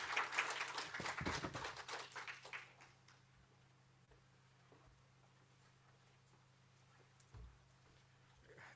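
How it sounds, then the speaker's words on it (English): Audience applause at an academic colloquium on social work and climate and environmental justice, a burst of clapping for about three seconds that fades into quiet room tone with a few faint scattered claps. "Let's give another round of applause"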